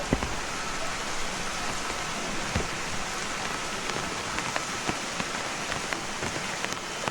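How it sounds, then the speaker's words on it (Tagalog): Steady rain falls and patters on a surface, a constant hiss with scattered drops, fairly close, with no voices. "Talagang umuulan talaga guys."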